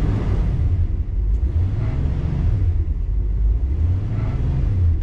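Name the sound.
1968 Ford Galaxie 500 vibration noise in neutral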